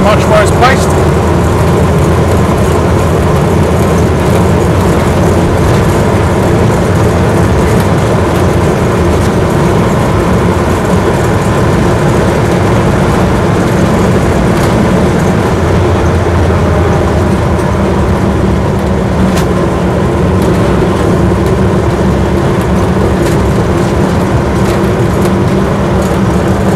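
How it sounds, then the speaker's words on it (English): Steady tyre whine and engine drone from a Land Rover Series 1 86in soft-top on the road, a continuous close rumble lasting throughout with someone talking over it. "Tyres do make a bit of a whine, it's fair to say."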